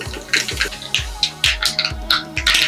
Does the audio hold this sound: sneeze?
no